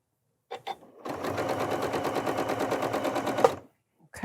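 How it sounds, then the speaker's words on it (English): A Janome 9480 sewing machine stitches rows of a nine-patch quilt block in one steady, rapid mechanical run of about two and a half seconds. Brief handling clicks come before it and after it, close to the microphone. "let's go ahead and sew the first 2 rows on this 9 patch"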